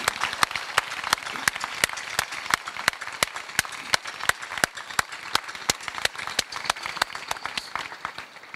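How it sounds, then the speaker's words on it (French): Applause at a formal gendarmerie flag presentation ceremony, a dense crowd clapping with a steady, strongly rhythmic unison beat that runs without a break, moderately distant. "je vais, avant tout propos, vous demander d'applaudir le Seigneur Tout-Puissant qui a arrosé cette cérémonie."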